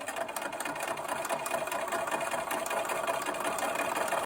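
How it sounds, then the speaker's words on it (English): A sewing machine stitches quilt pieces in a steady rapid whirring rattle, close and continuous at even speed for the full length, with no voices. "I need to be really careful not to pull on that when sewing."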